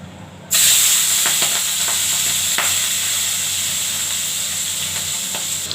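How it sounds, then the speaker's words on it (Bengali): A sudden burst of loud, hissing sizzle as fish hits hot oil in a wok, then a continuous bright crackle that holds steady throughout, with no voices. "দেখুন ভাজা ভাজা হচ্ছে।"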